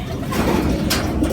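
Pet pigeon Big Boy, a racing-line bird in conditioning, gives low, soft cooing close by, a steady murmuring throat sound with a faint breathy hiss and no talk over it.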